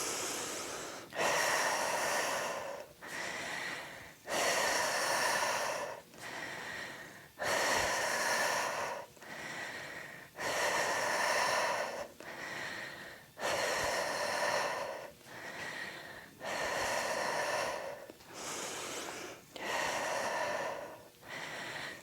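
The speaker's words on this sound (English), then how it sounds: "Okay, inhale back, exhale" Heavy, rhythmic breathing during a yoga block exercise for pelvic floor and core, with about nine long, loud inhale-exhale cycles close to the mic, each breath rushing and airy, and no speech.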